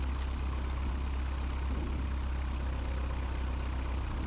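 A brand-new Lycoming aircraft engine runs steadily at a low idle, a dense continuous rumble with a heavy low-frequency drone that holds level and close throughout, with no voices.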